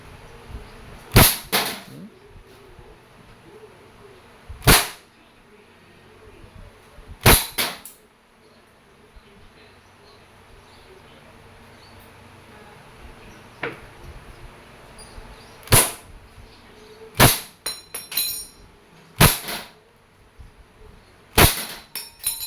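A Crosman Phantom P10 airgun fires at a tin can outdoors, giving a series of sharp, loud cracks spaced irregularly, some in quick pairs, with quiet gaps between.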